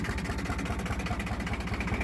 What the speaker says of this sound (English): Man, she idles just beautiful.